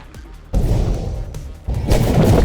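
Explosions in the underwater video game Dave the Diver, two heavy booming thuds a second apart, each followed by a dense rumbling tail, loud and close.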